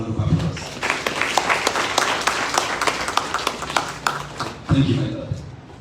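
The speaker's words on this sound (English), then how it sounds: "I want you all to join me in giving him a round of applause" An audience at a police training event applauds, with a burst of clapping that stays fairly loud and steady, then tapers off with voices near the end.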